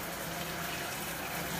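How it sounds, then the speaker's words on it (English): Running water pours steadily through hair during a shower to rinse out conditioner, a close, even gushing hiss that continues without pause and without voices. "So we're gonna rinse conditioner."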